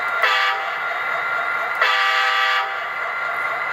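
Horn of an Athearn Genesis Norfolk Southern SD60E model locomotive with onboard sound, sounding two sustained chord blasts, the second starting about a second and a half after the first, each held steady at moderate loudness with no talk over them.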